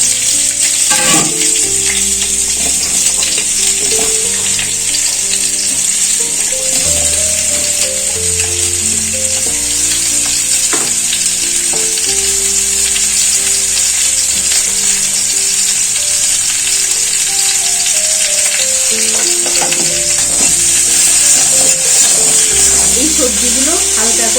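Potato, papaya and radish frying in mustard oil in a pan give a steady, continuous hissing sizzle, with occasional stirring, under background music that plays for the whole stretch.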